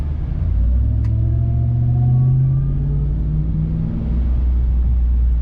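Supercharged 6.2L Hellcat V8 in a Ram TRX with an aftermarket intake and exhaust, revving up and settling in a heavy, close, loud rumble, its pitch rising and falling across the stretch.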